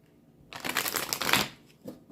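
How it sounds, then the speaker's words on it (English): A deck of tarot cards being shuffled up close, a dense papery riffle and slap lasting about a second, then a short softer flick as the cards settle. "Maybe I'll shuffle 2 more times."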